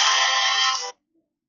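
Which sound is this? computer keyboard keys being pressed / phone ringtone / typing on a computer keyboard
phone ringtone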